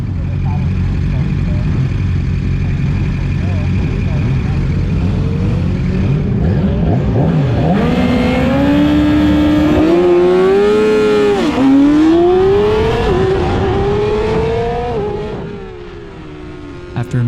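Yamaha R6 racing motorcycles launching at a race start, engines idling low then screaming upward in rising, overlapping revs as the pack pulls away, loud and close before fading at the end.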